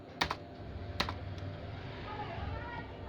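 Keys tapped on a computer keyboard while building an MS Access database table, a few sharp clicks early on over a steady low background hum.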